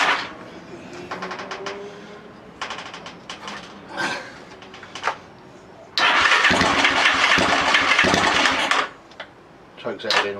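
Lifan Earth Dragon 125 motorcycle engine with the choke in use: repeated cranking attempts and brief sputtering catches, then the engine fires and runs loudly for about three seconds before cutting out, close by.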